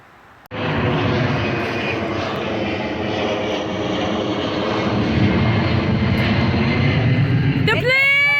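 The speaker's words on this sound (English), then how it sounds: "The plane! It's a plane!" A fixed-wing airplane passes overhead near a kayaking spot, its engine drone starting abruptly and holding loud and steady with a slowly shifting pitch throughout, then cutting off at the end.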